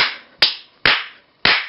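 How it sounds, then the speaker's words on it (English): Three sharp, loud hand claps sound close to a microphone sensor on a learning board, each a crisp crack with a short decaying tail, spaced about half a second apart, with no talking. "if I clap right now"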